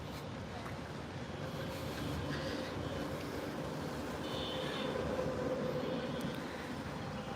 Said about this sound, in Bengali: ও আচ্ছা আচ্ছা ট্রেন হবে